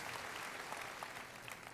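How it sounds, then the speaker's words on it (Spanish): An audience at a sermon claps steadily for a short spell, giving dense, even applause across the whole moment with no voices rising above it. "Eso merece un aplauso."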